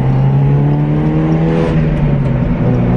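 A 1991 Mazda Miata drives along the road, heard from inside as a loud, steady engine drone with a low hum and road noise, the pitch easing slightly lower near the end, with no talking.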